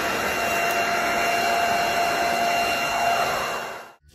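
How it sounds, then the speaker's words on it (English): A vacuum cleaner combined with a nest runs at a loud, steady whine and roar, unbroken for about four seconds before cutting off abruptly. "It combines a nest and a vacuum cleaner, saving exactly half the work time."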